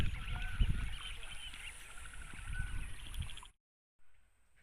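Peking ducks on a duck farm in a wetland area, a busy chorus of quacking and honking close by for several seconds before a sudden cut to near silence.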